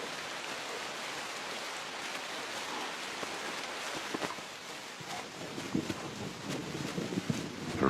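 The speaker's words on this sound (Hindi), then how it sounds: "लगभग हर दिन तेज बारिश हो रही है।" Heavy rain falls steadily over flooded grassland, a dense continuous hiss with gusts of wind and scattered louder drops toward the end, no voices.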